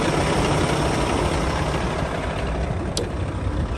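A 2004 Kenworth W900 quad-axle dump truck with its hood open, diesel engine idling in a steady, loud, continuous low rumble close by, with no talk over it.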